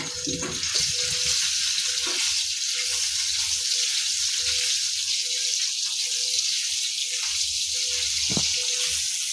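Potatoes for an aloo beans sabzi fry in a pan with a steady, close sizzle and hiss that holds throughout, with brief clinks of stirring on top and no talking.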